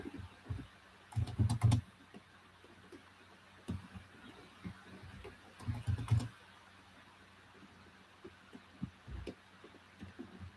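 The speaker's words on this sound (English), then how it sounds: "Having trouble typing," Typing on a computer keyboard in an office: two short bursts of quick key clicks a few seconds apart, faint over a steady low hum, with scattered single taps between.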